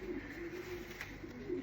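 A young single-reared pigeon coos softly in a low, rolling murmur, steady and close against a faint ambient hiss.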